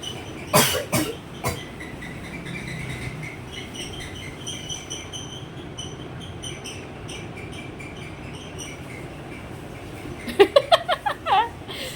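A few sharp coughs burst out near the start, then a quiet stretch before a brief run of short vocal sounds near the end.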